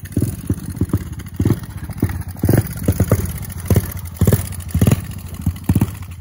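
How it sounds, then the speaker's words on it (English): A new dirt bike with an engine that bogs and runs poorly sputters close by in uneven, pulsing bursts, its revs rising and dropping irregularly in a rough, stumbling rhythm, alone without talk. "Talking about the bike having issues, guys. It's kind of just bogging and not working properly."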